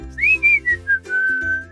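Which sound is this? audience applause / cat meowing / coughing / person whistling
person whistling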